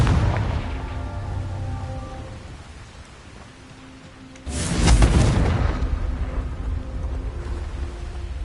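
A Confringo blasting spell in Hogwarts Legacy bursts into a sudden booming explosion after a quieter stretch of game ambience, followed by a lingering rumbling tail.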